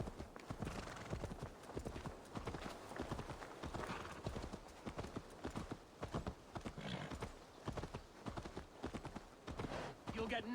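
Horse hooves gallop in the Viking video game Assassin's Creed Valhalla, a fast, steady clip-clop that runs without pause throughout, fairly close and layered with other game sounds.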